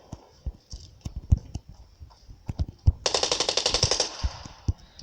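Rapid burst of AK rifle fire with a scope in the mobile shooter Standoff 2, a fast even volley of about ten shots around the middle, with scattered single shots and clicks before and after.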